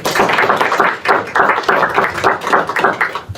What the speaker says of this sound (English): And another round of applause for all our spotlights this month.